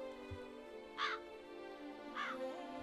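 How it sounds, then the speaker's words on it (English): Crows caw twice in The Witcher 3 game, a harsh call near the one-second mark and another just after two seconds, over a steady hum of game ambience with no talk. "Oh, ravens. Did they tell him also? Or was it crows? I mean, I think they look more like crows."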